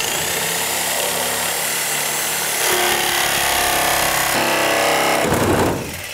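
Sawzall reciprocating saw cutting through wood while building a shed, a loud steady buzzing rasp running for several seconds, rising in intensity midway before the blade stops abruptly.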